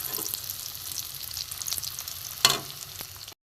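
Cutlets made from stale bread, coated in breadcrumbs, sizzle steadily in hot oil in a pan, a close, continuous crackle with one sharper clatter near the end before it cuts off.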